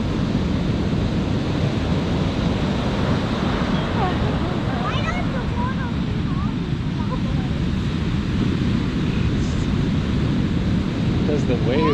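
Ocean waves break on a beach in a steady, loud roar of surf, with wind buffeting the microphone throughout and faint voices in the distance.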